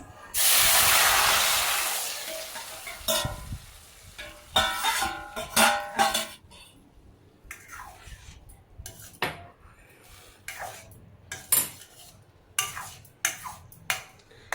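Drumsticks go into a hot tempering of urad dal and chana dal in oil, setting off a loud burst of sizzling hiss, then scattered clinks and scrapes of a metal spoon against the pan as the pieces are stirred.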